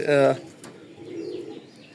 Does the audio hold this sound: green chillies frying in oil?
no